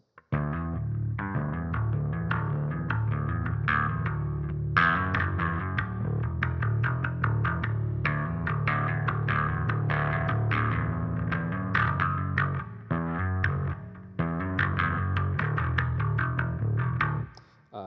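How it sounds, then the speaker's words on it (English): An electric bass plays a steady, driving line with a chorus-like effect, repeating a rhythmic pattern continuously with a brief pause near the end. "Sounds like this on bass."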